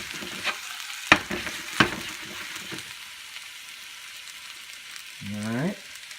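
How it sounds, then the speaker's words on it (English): Green onion whites fry in a pan for pad thai, a low steady sizzle with a few sharp clatters of a utensil early on and a short voiced sound near the end. "So in this case, I'm going to add my green onions,"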